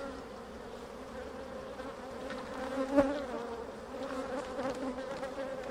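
Honeybees from a Buckfast F1 colony buzz steadily around the hive, a dense, continuous drone with a brief louder swell near the middle.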